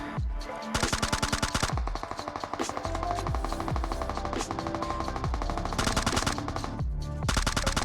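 Rapid automatic gunfire from PUBG Mobile played on a Black Shark 2 phone, loud bursts of machine-gun fire with short pauses between volleys, mixed with game sound effects and no talking.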